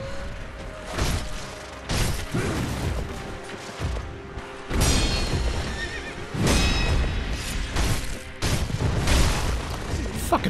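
A horse in Sekiro: Shadows Die Twice whinnies and neighs loudly several times, with hoof clip-clop and thudding impacts between the calls, all in bursts of game action.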